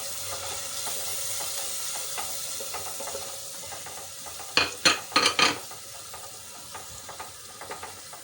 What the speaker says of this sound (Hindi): और अब ये मिर्चें, हल्दी और ये सब डाल देते हैं ताकि ये भुन जाए हमारा मसाला।